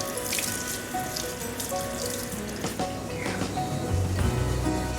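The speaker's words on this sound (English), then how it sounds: "How about a shower instead?" Steady running water from a shower used to wash a dog fills the whole stretch as a constant hissing spray with splashes and drips, fairly loud and close, without talking.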